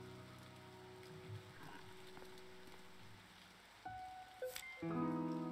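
Rain patters softly and steadily in the video game To the Moon, a faint background wash joined near the end by a few brighter tonal game sounds.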